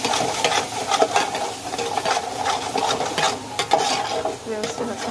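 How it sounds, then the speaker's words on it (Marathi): A spoon stirs masala with salt in a hot pan for kala mutton, close repeated scraping and clinking strokes over a continuous frying sizzle. "व्यवस्थित असं फ्राय करून घेऊया।"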